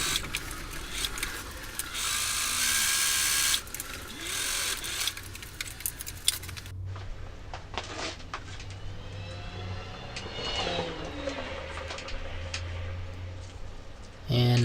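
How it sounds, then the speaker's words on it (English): A sewing machine stitches through a doubled fixed-gear bicycle pedal strap in bursts of mechanical whirring, loud and steady for the first few seconds, then quieter intermittent stitching with faint background talk. "So now we're gonna sew the double thickness of these together."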